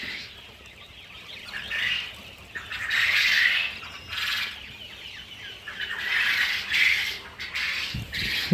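Quail on a farm chirp and squawk in repeated bursts, a busy flock of close calls rising and falling over a steady low background hum.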